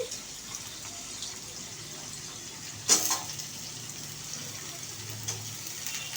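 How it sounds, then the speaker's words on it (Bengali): Eggs frying in a pan for an egg curry, giving a steady soft sizzle with one brief louder crackle partway through and a few faint clinks, with no talking. "আজকে ডিম ভেজে ঝোল করছি।"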